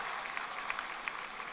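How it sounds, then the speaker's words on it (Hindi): An audience applauds at a Bhai Dooj event in a large gathering, a steady dense wash of clapping from many hands, fairly distant and even, with no speech. "जोरदार ताली बजाना तो दिल खोल के बजाओ"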